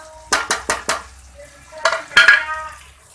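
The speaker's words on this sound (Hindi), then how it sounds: "और इसे अच्छे तरीके से भूनूंगी।" Salt, chili, turmeric and spices are fried in a pan for baingan bharta: a quick run of four metallic clinks from a utensil, then more scraping and stirring against the pan, close and fairly loud.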